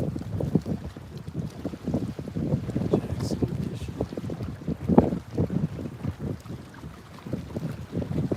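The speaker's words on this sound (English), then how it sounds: "It's getting really windy" Strong gusty wind blowing across Lake Travis at sunset on a fishing outing, a continuous rough buffeting roar with low rumbling surges, loud and close with no clear talking.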